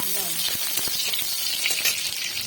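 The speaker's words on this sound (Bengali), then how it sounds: "দুটো শুকনো লঙ্কা দিয়ে দিলাম। আর আমি একটু এটা নেড়ে নেব।" Two dried red chillies sizzle steadily in hot oil as a tempering, with a loud continuous frying hiss broken by the scrape and clack of a stirring spoon in the pan.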